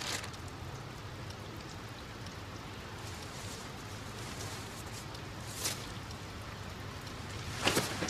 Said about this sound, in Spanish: ponete las botas que llueve.